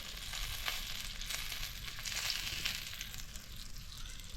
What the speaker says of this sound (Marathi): एक ते दीड मिनटात मस्त असा हा मासा फ्राय होतो